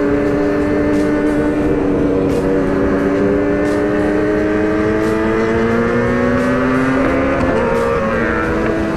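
Deep motorcycle engine drones steadily at close range, with pitch swelling and dipping under rev changes and a sharper blip near the end.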